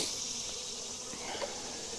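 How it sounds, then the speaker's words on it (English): Honey bees buzzing around a swarm trap during a hive transfer, a steady dense drone of many wings close by, continuous and even, with no voices. "there's still several bees in here"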